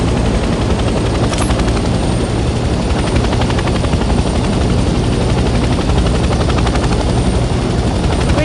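A video game helicopter in Hell Let Loose Vietnam drones loudly and steadily, rotor chop and engine whine filling the sound without a break.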